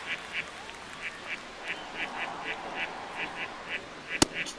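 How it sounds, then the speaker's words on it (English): Ducks quack in a rhythmic series of about a dozen short, evenly spaced calls during the MLB All-Star Game in MLB The Show 25, set over a quiet ballpark murmur with a sharp click near the end. "Now we got quacking ducks in the booth."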